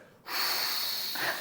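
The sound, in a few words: voice imitating dental handpiece blowing air, not spinning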